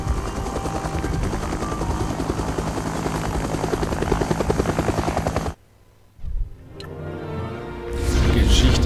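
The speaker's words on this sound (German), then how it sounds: "Das ist ein Hubschrauber." A loud, close helicopter drones with rapid rotor chopping, then cuts away abruptly to near silence before a muffled rumble swells back up, in the video game LEGO Jurassic World.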